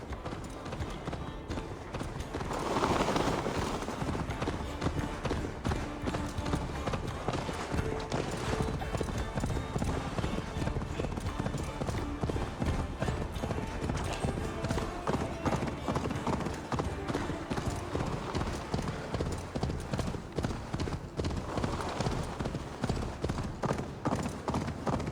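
Horses galloping in the Assassin's Creed Valhalla video game, a steady, fast clip-clop of hooves running continuously at close range, with a low wind-like rumble beneath.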